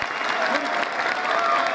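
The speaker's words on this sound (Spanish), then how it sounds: "pido un fuerte aplauso en la despedida de los campeonatos nacionales de Mirta Iturra" Strong, sustained audience applause at a farewell ceremony at Chile's national championships, a dense steady clapping crowd heard up close and loud throughout.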